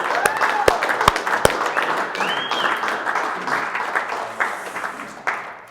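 A team at a company update meeting breaks into applause for a colleague, starting with a few sharp close claps that swell into sustained group clapping, with a voice heard over it.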